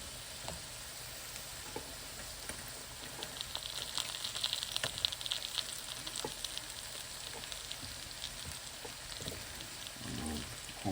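Potatoes and mushrooms sizzling in a pan, a continuous soft crackling sizzle with scattered pops and a few stirring scrapes, close but fairly quiet, no talking.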